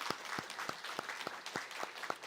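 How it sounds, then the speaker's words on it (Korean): A church congregation at Sunday worship claps in welcome for a new pastor taking charge of the children's department, with a brief burst of steady, evenly spaced handclaps at moderate distance. "우리 박수로 환영하도록 하겠습니다"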